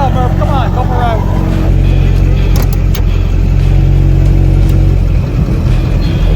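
A turbo diesel Chevelle's engine drones steadily with a low, loud rumble as the car drives, with people talking over the motor throughout.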